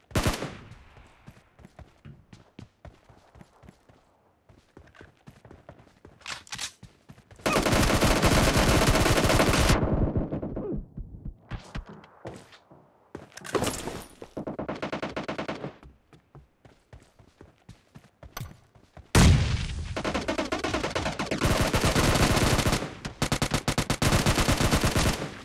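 Bursts of automatic gunfire in the mobile shooter PUBG, several loud sustained volleys separated by quieter stretches of scattered single shots and faint game noises.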